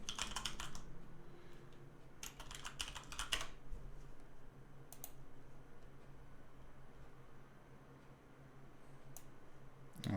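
Typing on a computer keyboard, with bursts of fast key clicks near the start and around two to three seconds, then a few isolated taps over a quiet background hum.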